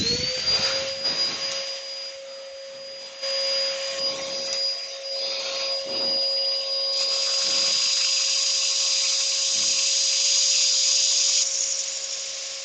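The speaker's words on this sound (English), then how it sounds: "then we will get it sanded" A power sander works over coloured wood with dust extraction running, a steady high whine and airy roar throughout, with the sander's tone rising as it bites into the wood at several points and the extractor droning on underneath.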